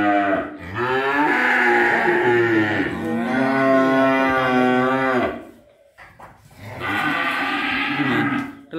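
Cattle at a farm sale moo in long, loud, close calls: one drawn-out bellow of several seconds, a brief pause, then a second strong moo, with no talk over them.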